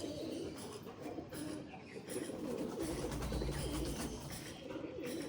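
Pigeons cooing softly at home, the low rolling coos fairly quiet and continuous beneath a steady background hiss, with no voices.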